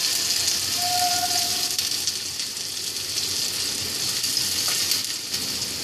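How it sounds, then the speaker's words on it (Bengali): Eggplant pieces frying in hot oil in a wok for a Bengali leafy greens dish, a steady bright sizzle that holds evenly throughout with faint crackles on top. "প্রথমে গরম কড়াইয়ে তেল দিয়ে বেগুনগুলোকে একটু ভেজে নেব"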